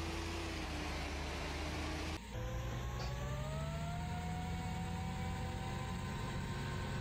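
Fendt 724 tractor engine drones steadily in Farming Simulator 2013, a loud continuous hum whose pitch climbs gradually after a brief cut, suggesting the tractor revving up under load.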